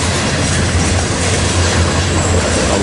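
A BNSF freight train with a heritage-painted locomotive rolls past close by, a loud, steady rumble of wheels and cars filling the whole stretch with a faint rhythmic clatter and no talk.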